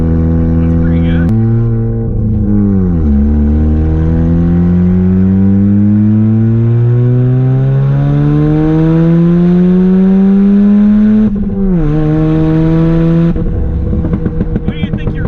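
Mazda RX7 FC3S Turbo II rotary engine revving, a loud, close, buzzy drone that dips then climbs steadily in pitch for several seconds before dropping back and rising again.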